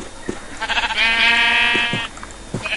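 Sheep bleating in Minecraft, a clear, wavering synthetic baa lasting about a second, preceded and followed by short game clicks and thumps, loud and close with no talk.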